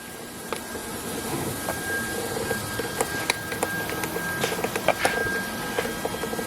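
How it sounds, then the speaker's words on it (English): An angle grinder smooths a weld on the firewall of a 1955 shop truck, giving a steady, moderately loud motor whine with a thin constant tone and scattered sharp scraping bursts, and no talk. "I'll go ahead and grind that down"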